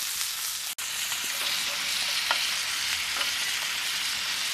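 Creamy stew with celery is stirred in a pot over a backyard fire pit, a steady bubbling sizzle with scraping spoon strokes close by.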